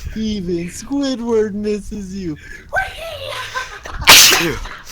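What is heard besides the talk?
sneeze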